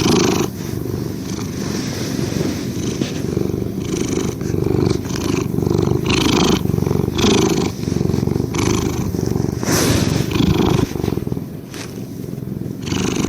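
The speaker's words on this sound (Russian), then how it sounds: "видео представляло собой всего лишь часовой зацикленный клип с мурлыканьем кошки" Cat purring in a looped recording, a continuous close rhythmic rumble with regular breathing pulses and no talk.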